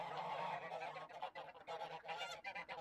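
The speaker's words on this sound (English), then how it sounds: "Listen to the gooses." Geese honk in a quick, fairly faint run of overlapping calls, several birds calling together.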